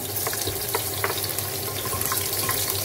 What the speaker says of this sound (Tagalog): pagka mainit na siya, igigisa muna natin to guys